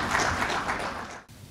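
A short burst of crowd applause, many hands clapping together in a dense patter that fades out abruptly.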